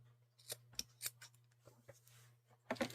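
Scissors make several crisp separate snips while cutting yarn for crochet, close and fairly quiet over a steady low electrical hum, with a quick double cut at the end.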